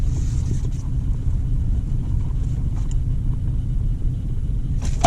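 A car idles with a steady low rumble from inside the cabin, loud and continuous with no voices, as in a POV drive in a Dodge Hellcat, Scat Pack or R/T.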